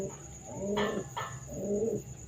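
Giribaz pigeons cooing at close range, a few soft, rounded coos in quick succession with no voices over them.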